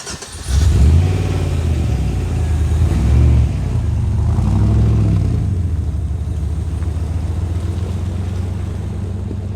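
A backyard-built turbocharged LS1 V8 with a turbo cam, fitted in a car, gives a loud rev near the start and then settles into a steady, lumpy, rumbling run.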